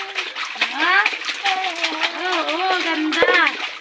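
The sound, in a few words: child splashing in water in a small pool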